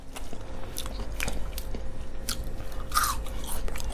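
Crispy homemade french fries, chilled in the freezer for two hours before frying, bitten up close, with a few sharp crunchy bites and chewing over a low steady background hum.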